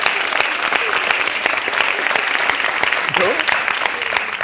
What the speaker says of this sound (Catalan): un aplaudiment, que Javier és molt feliç